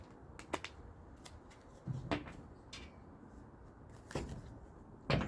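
Quiet tarot card shuffling with a few sharp riffling snaps and soft slides, spaced irregularly in an otherwise hushed room.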